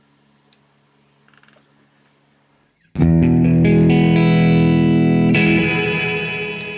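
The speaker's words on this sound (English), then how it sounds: "This robot is malfunctioning. Sounds like R2-D2 getting electrocuted a little bit." A Chase Bliss Mood effects pedal glitching, with a few faint clicks first, then a sudden loud burst of warbling, stuttering tones that sustains and slowly fades.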